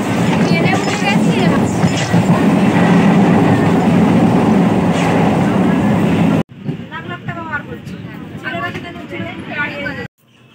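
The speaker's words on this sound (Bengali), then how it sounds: "ট্রেনে উঠে গেছি।" A passenger train carriage rumbles and rattles with a clickety-clack beneath the voices of people talking nearby. The noise is loud and steady, then suddenly drops to a quieter, more muffled interior sound partway through.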